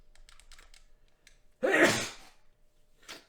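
A single loud sneeze up close, sudden and sharp, then a brief trailing breath. Faint scattered clicks and taps come before it.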